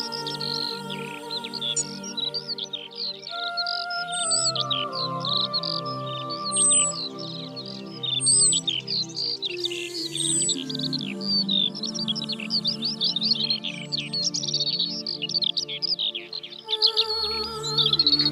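Wild birds sing and chirp continuously at a former airfield in Ploufragan, with busy high twittering calls layered over sustained low tonal background tones, clear and fairly close.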